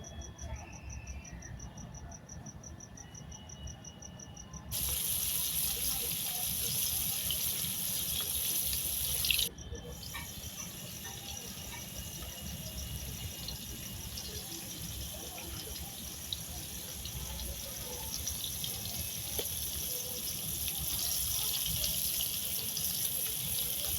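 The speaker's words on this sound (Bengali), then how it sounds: "তেল গরম হয়ে গেছে মাছগুলো দিয়ে দেবো" Small chela fish go into hot oil in a wok, bringing a sudden loud, steady hiss and crackle that continues to the end, with faint insect chirping in the quieter opening seconds.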